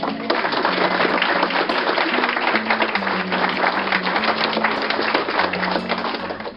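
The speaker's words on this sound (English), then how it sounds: "deserve a round of applause" Wedding guests break into steady, sustained applause during the ceremony vows, a dense wash of clapping over low background music tones.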